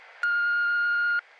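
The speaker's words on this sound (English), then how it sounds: "leave a message after the beep" A single steady electronic voicemail beep, clean and piercing, holding for about one second before cutting off, alone against a faint background.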